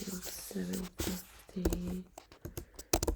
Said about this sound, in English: And I start typing all of my numbers.